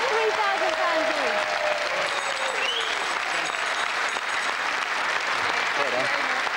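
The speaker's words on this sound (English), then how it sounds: "Give them a round of applause." Studio audience at a 1996 National Lottery television game show gives sustained loud applause, a dense wash of clapping with a voice and faint music audible beneath it.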